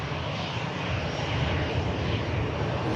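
EasyJet airliner from Montpellier crossing at the airport; a steady, fairly close jet engine rumble with strong low end runs unbroken through the short stretch, with no voices.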